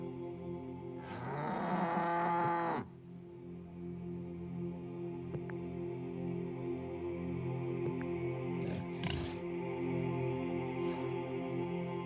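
Cows moo in a farm game, Orwell's Animal Farm: one loud, drawn-out low call near the start, then quieter calls later over a steady bed of insect and ambient drone, with no talking.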